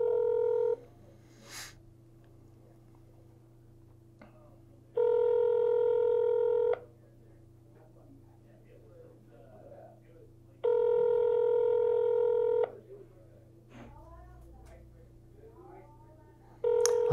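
A telephone dialing for an outbound call produces steady tone bursts about two seconds long that repeat at regular intervals over a low line hum, with faint clicks and brief speech-like sounds between them.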